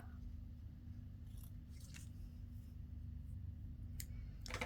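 Scissors snip the corner off a piece of paper in a few short, crisp cuts close by over a low steady hum, with no talking.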